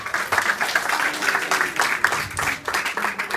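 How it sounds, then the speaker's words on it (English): An audience at a 2014 Esperanza art exhibit fundraising event applauds steadily for several seconds, a dense wash of clapping with a few brief voices mixed in. "So first of all, give yourselves a round of applause for that."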